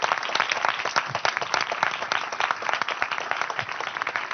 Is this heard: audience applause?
yes